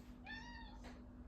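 A house cat gives one clear, rising-then-falling meow followed by a shorter second call, quiet and close over a faint steady hum.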